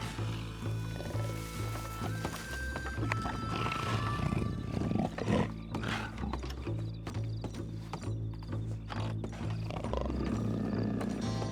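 A puma roars and growls amid Red Dead Redemption game ambience, with a steady low hum and occasional thuds and clattering steps.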